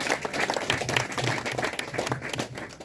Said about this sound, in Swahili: Pigieni mama makofi tena.